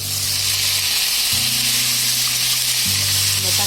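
Tomatoes sautéing in a pan for Indian home cooking give a steady, close, loud sizzle that holds unbroken throughout, with a faint low hum underneath and no talk.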